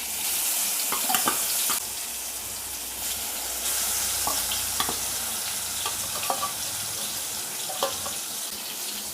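Potatoes frying in oil give a continuous, dense sizzle. Scattered light clinks and scrapes of stirring break through it, close by, with no talking.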